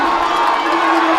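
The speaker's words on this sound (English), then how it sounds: "The crowd trying to will him forward." A stadium crowd roars continuously as a steeplechase runner heads down the final straight of a 3000 m race, a steady loud wash of cheering and shouting with no clear breaks.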